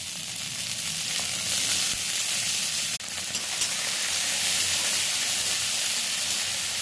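Green peas dropped into brinjal already frying in a pan set off a loud, steady sizzle and hiss that lasts throughout, with a brief dip near the middle as they go in.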